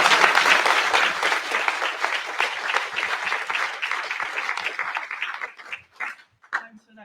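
A crowd at a Leicester rally for food workers gives a loud, dense round of applause that gradually thins and tapers into scattered individual claps, with voices audible beneath it.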